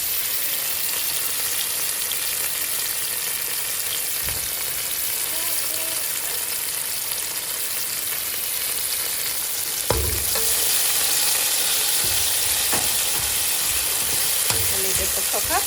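Green seasoning and tomato fry in a pot, a continuous dense sizzle with occasional stirring clinks and scrapes. A voice speaks faintly underneath the frying.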